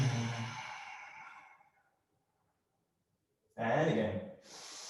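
Deep yoga breath: a long audible exhale fading to silence, then a strong drawn-in inhale through the nose, close and alone with no talk.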